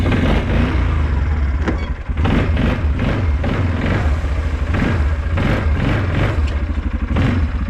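A small motor vehicle's engine revs steadily and close, with clattering bumps as it rides up a homemade wooden ramp, the sound loud and continuous with brief dips.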